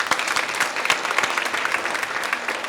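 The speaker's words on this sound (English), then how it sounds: "Let's give them a very warm round of applause in appreciation." Graduation audience in a hall gives a warm round of clapping for sponsors and donors; many hands patter together in a dense, lively burst, fairly close, with no speech over it.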